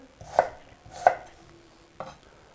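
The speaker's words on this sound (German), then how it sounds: "Dann schneide ich das Gemüse erstmal in grobe Würfel" Three separate knife chops against a cutting board, crisp and close, cutting vegetables into coarse cubes, spaced unevenly with quiet pauses between them.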